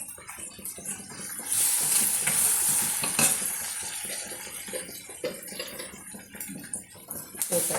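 Indian tempering with asafoetida and turmeric sizzling in a hot pan for chicken pulihora, with a spoon scraping and stirring through steady frying crackle; the sizzle swells briefly, then settles.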